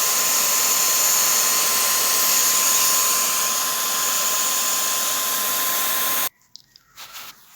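A Dyson cordless hand vacuum cleaner whines loudly and steadily at close range for about six seconds, then cuts off, leaving a few soft handling clicks.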